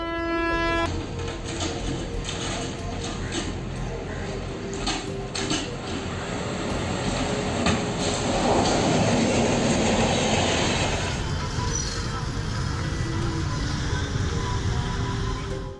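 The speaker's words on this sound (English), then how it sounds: "As the train rushed by" A train thunders past with rattling wheels and metallic clatter, a loud rushing roar that swells and then recedes.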